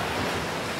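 Open sea surf in a children's cartoon adventure story, a continuous, full rushing wash of waves heard alone, steady and close for a brief stretch.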